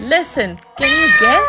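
A cat meows clearly and up close in a kids' animal-guessing game, a drawn-out, wavering call after a brief spoken prompt.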